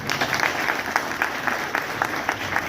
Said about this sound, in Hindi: जोर से ताली बजाइए, पीछे वाले ताली नहीं बजा रहे हैं।